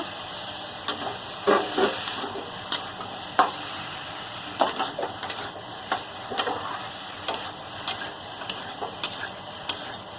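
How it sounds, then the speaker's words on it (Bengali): Cauliflower and potato sautéing in spice masala for a fish curry, soft background sizzle broken by repeated scraping stirs of a spatula, close and moderately quiet. "এবার ফুলকপিগুলো দিয়ে কষিয়ে নেব"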